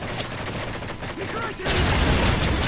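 MP5 submachine gun fire in Modern Warfare 3 Survival on the Village map, a dense, continuous burst of rapid shots with a louder, heavier stretch of gunfire in the second half.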